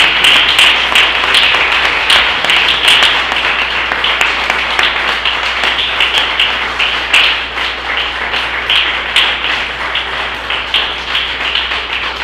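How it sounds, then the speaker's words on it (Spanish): Church congregation applauding during a Sunday service, loud and close, with sustained rhythmic clapping from many hands filling the room for several seconds. "Denle un aplauso al Señor para saber que está ahí."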